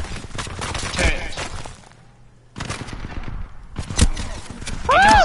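Turret fire in Titanfall 2 rattles in heavy, continuous bursts, loud and close, cutting out briefly before resuming, with sharp impacts and whining tones layered over the battle noise.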